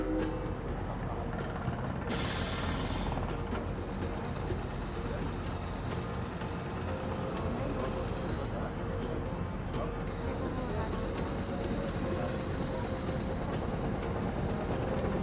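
The Orient Express train in a video game rolls on with a steady, unbroken rumble and rattle, a short burst of hiss near the start, and no voices.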